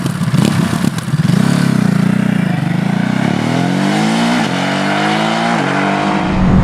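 A 2021 Ducati Monster motorcycle engine revs continuously up close in sport mode, its deep exhaust note rising and falling as the throttle is worked, loud throughout.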